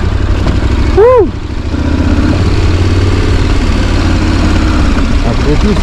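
An off-road-leaning motorcycle idles close by in a loud, steady, low chug that runs throughout, with a brief voice near the start.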